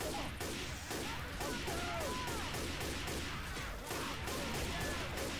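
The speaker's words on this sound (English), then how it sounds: "Fucking Rochelle just shot me" Dense, continuous gunfire in the video game Left 4 Dead 2 fills the whole stretch, rapid overlapping shots with crashes and game effects, loud and unbroken.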